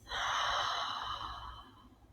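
A long, soft exhale out through the mouth during a guided meditation, a single steady breath that starts clearly and gradually fades away, heard alone and close.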